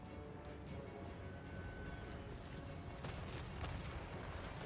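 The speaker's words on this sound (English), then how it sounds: "Both sides trading fire as both hybrid front lines more than happy to shoot at each other rather than get into pure melee." Ranged units trading gunfire in a fantasy video game battle between hybrid front lines, a faint scatter of distant shots and crackling volleys under a low rumble of battle noise.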